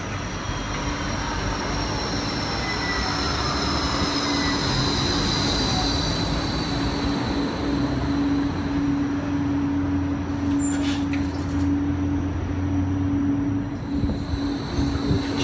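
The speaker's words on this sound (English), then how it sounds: "Coming into platform number 1, we have G-Link 13 for the University Hospital." G-Link 13 tram for the University Hospital pulling into platform 1 at Nerang Street, a loud continuous rolling rumble with a steady tonal motor whine, faint wheel squeal and a brief clatter late on.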